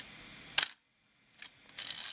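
Soviet Zenit 35mm SLR film camera firing its shutter at 1/500 second: a sharp mechanical snap, a quieter click after a short silence, then a longer burst of whirring clatter, all close and alone.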